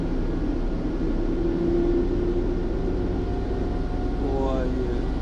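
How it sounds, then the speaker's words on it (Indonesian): An airport runway cleaning truck's blower runs at full power, producing a steady, loud, close rushing roar that stays constant throughout, with a faint rising whine near the end. "Kayak ini kayak pesawat mau take off. Kencang juga ya blowernya ya."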